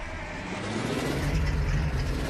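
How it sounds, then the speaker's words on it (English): A video game car engine starts and idles with a steady low rumble and broadband noise, building slightly as it runs, close and continuous without voices. "Let's buckle ourselves in, undo the handbrake, and get our car turned on."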